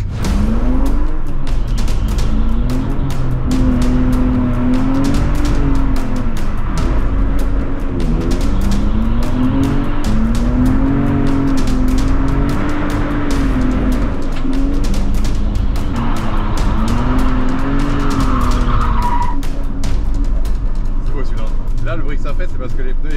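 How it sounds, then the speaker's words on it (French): Race car drifting on a dry circuit during a track day, its engine droning steadily with rising and falling revs while tires slip and regrip on dry tarmac, close and loud throughout, with people talking over it in the cabin. "le bruit que ça fait c'est parce que les pneus ils raccrochent sur du sec"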